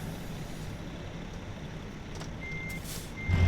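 Truck reversing beeps from American Truck Simulator, a steady electronic tone pulsing in the latter half over a constant low engine rumble, with a louder thump near the end.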